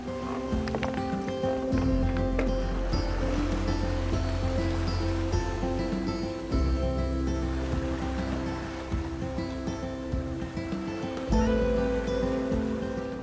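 Sailing boat heading north through foggy ocean toward Alaska in near-storm winds, with a constant loud rush of wind and water against the hull and low rumbling surges, no voices.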